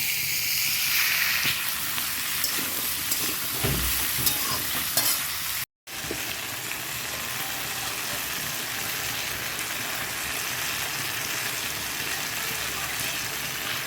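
Potato, pointed gourd, pumpkin and onion fry in a pan with stir scrapes over a constant close sizzle, which cuts out for a split second midway and then carries on evenly.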